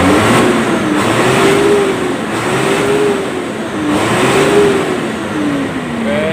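A Hino Lohan diesel truck engine revs in repeated throttle rises and falls, a loud close drone that swells and drops in waves with no one talking.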